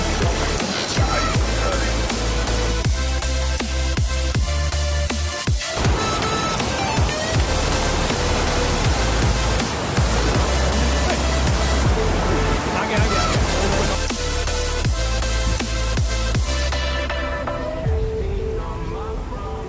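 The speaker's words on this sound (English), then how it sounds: "The Kalu Waterfall." Heavy roar of the Kalu Waterfall at Malshej Ghat during the monsoon, a dense continuous rush of falling water mixed with music playing over it throughout.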